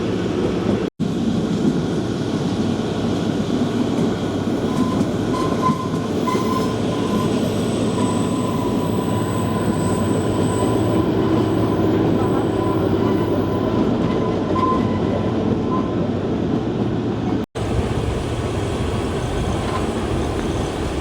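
Kalka-Shimla narrow gauge heritage toy train rolling along its 2.6-foot track, a loud, steady rumble of wheels with rhythmic clatter and occasional squeal, continuous and close throughout with no talking.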